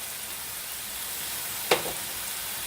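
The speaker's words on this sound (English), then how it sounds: "I'm just going to let it sit here in my skillet for a second till it gets nice and brown on the bottom" Meat browning in a skillet for taco filling, a steady close sizzle and hiss of frying throughout, with one brief scrape or stir near the middle.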